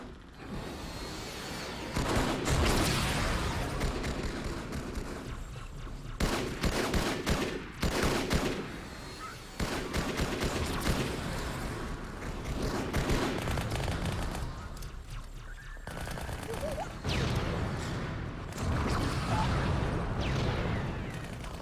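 Halo 2 demo battle with dense automatic gunfire and bursts of weapon fire, loud and sustained with brief lulls and impacts, mixed with game sounds throughout.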